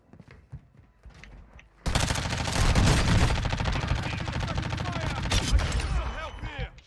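Video game gunshots erupt into a loud, sustained barrage of rapid automatic fire and explosions after a quiet start with faint movement noises.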